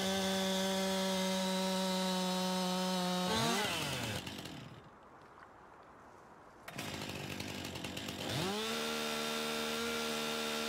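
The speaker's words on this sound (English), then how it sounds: "we're going to have to grind these stumps out" Stump grinder working in Farming Simulator 19, a loud steady whining engine drone that dips and bogs as it chews into a stump, then climbs back to a sustained high whine, with no voices.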